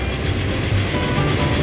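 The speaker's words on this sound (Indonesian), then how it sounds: "Kereta Bob ini adalah kereta pembawa penumpang di kota." Passenger train in the city-building game Transport Fever 2 rumbling steadily, with a continuous low roar and faint rhythmic wheel clatter, loud and close with no pauses.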